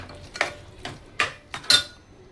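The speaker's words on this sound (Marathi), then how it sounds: "आता याला परतून घेऊया." A spatula scrapes and clinks against a pan as masala for a Maharashtrian taro-leaf curry is sautéed, with about five distinct metallic strikes spaced irregularly in an otherwise quiet kitchen.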